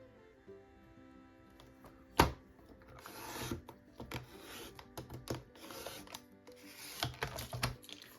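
A paper scrap gets trimmed in half by hand, heard as a sharp close snap followed by soft scraping, rubbing cuts and small clicks at low volume, without speech.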